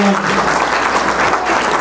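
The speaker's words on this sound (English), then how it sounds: "give Billy a round of applause" Loud, steady applause from an audience at a live show, continuous and dense throughout with a faint voice or two mixed into the wash of clapping.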